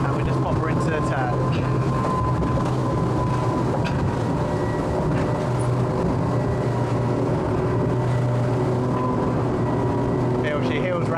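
A Nimbus W9 motorboat runs at about 35 knots while heeling into a port turn, its engine and rushing water making a loud, steady, close roar that never lets up.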